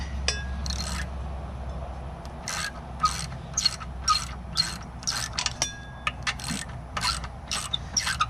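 A ratchet wrench clicks in short repeated bursts while loosening a long 14 mm bolt under the anode plate on the lower unit of a 2019 Mercury 150 four-stroke outboard, close up, with brief pauses between strokes.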